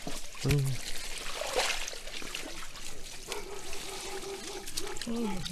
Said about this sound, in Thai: นี่น้ำไหลเฉย